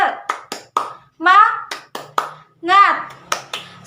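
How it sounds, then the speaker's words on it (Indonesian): Schoolchildren in a classroom perform the 'tepuk semangat' clapping chant, sharp rhythmic hand claps alternating with short bursts of unison chanting in a lively, patterned beat. "kita tepuk semangat terlebih dahulu"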